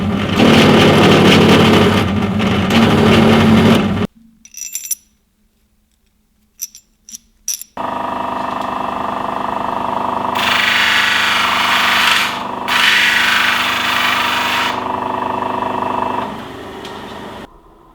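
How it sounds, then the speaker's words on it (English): Power tool countersinking holes for stainless steel bolt heads while assembling a bench vise: a loud, close whine runs for a few seconds, stops for a short quiet gap with small clicks, then resumes in a long, steady run. "the head is not flat, so I will have to sink the head a little bit inside of this"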